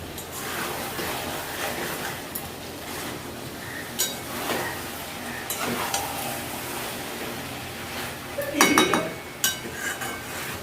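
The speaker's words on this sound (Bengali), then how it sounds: "তাও আমি কিছুক্ষণ এটা আরেকটু কষিয়ে নেব" Chicken biryani meat being stirred and sautéed in a pot, giving intermittent close scrapes and metallic clinks that build to a louder clatter near the end.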